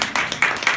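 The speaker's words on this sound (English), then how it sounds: "Give him a round of applause." Audience applause for Curtis Jackson at a motivational speaking event, a short burst of scattered clapping with a few sharper claps rising over a steady crowd patter.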